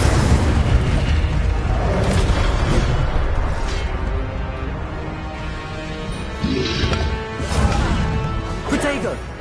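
Incendio fire spells are cast again and again in the Hogwarts Legacy video game, with bursts, booms and crackling impacts layered over continuous game noise and talking.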